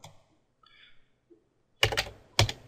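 Short bursts of keystrokes on a computer keyboard, two quick clusters of clacking near the end after fainter soft taps, close and clear in a quiet room.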